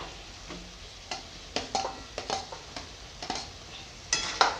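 Potatoes and cauliflower sautéed in a pan sizzle faintly while a spatula clacks and scrapes in irregular close strokes, building slightly toward the end, with no voices.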